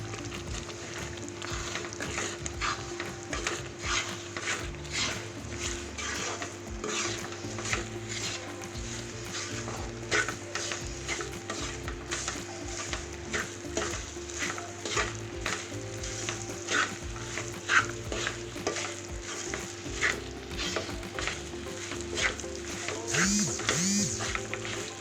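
A spoon stirs a flattened rice and bread laddu mixture quickly in a pan, giving a rapid, continuous scraping and rustling with a soft sizzle underneath, fairly close and steady throughout.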